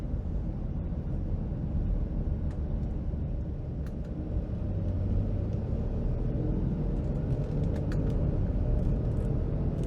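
A 2015 Dodge Durango Limited AWD V6 SUV cruises along the road, heard from inside the cabin as a steady, low engine and road rumble with no talking.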